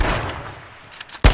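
A loud gunshot from an H1Z1: King of the Kill firefight cracks near the end, after a couple of fainter shots and a quiet stretch.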